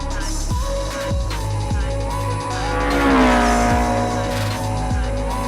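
Palatov Motorsport race cars screaming past one after another, each high-revving engine rising and falling as it passes, one loud close pass in the middle with a sweeping pitch, tires and wind noise between them.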